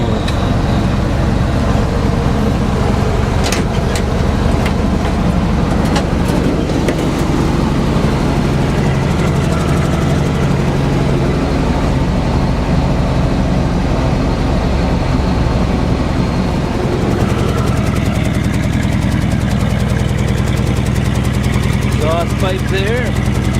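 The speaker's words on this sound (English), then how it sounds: "Very sweet sounding motor." A 1948 Chevrolet 216 six-cylinder engine idles close up, a loud, steady, smooth rumble with a faint rhythmic tick, continuing throughout with a brief shift partway through and a voice speaking briefly.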